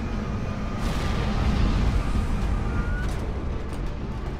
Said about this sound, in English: Damn it! Eclipse mercenary gunships.